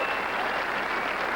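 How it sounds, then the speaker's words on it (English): Live crowd of about 1,000 people in Peoria cheering and clapping, a dense, steady roar of applause filling the room for a brief moment with no single voice standing out. "I want you to hear a live crowd cheer"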